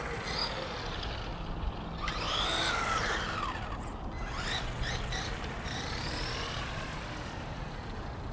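A WLToys 12428 1:12 scale 4WD off-road RC truck runs at full speed with a constant whining motor and gritty rolling noise, its pitch surging and sweeping as it accelerates and brakes.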